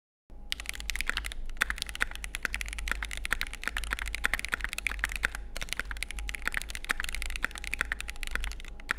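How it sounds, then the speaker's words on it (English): Steady, fast typing on a mechanical keyboard with lubed linear switches, dense evenly spaced keystrokes, close and clear, with no talking. "we can't introduce the keyboard without doing a quick sound test"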